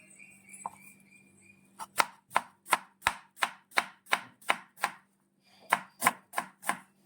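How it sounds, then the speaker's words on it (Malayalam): A knife chops an onion finely for a raw mango salad, about a dozen crisp, evenly spaced blade strikes on a cutting board, close and clear, with a short pause before a final burst of cuts. "ഈ പരുവത്തിന് കട്ട് ചെയ്യണം, ചെറുതായിട്ട് ചോപ്പ് ചെയ്തെടുക്കണം"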